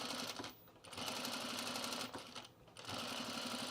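A sewing machine stitches the edge of a Carolyn pajama top in steady whirring runs, briefly easing off twice before picking back up, close and continuous without talk.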